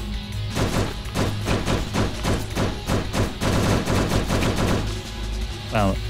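Guns fire in the zombie survival game Last Hope Bunker, loud rapid bursts of repeated shots in steady rhythm over several seconds, ending with a brief rising electronic tone.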